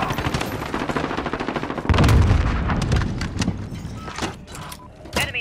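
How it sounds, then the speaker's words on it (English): Rapid gunfire and a heavy grenade blast from the Modern Warfare shooter game, steady automatic shots giving way to a loud low boom near the two-second mark, followed by scattered shots and bursts. "Throwing grenades."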